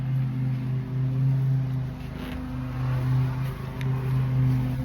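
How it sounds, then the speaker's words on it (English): A lawn mower engine drones steadily nearby outdoors on a homestead, a continuous humming motor with slight rises and dips, with no talk over it. "My brother's mowing."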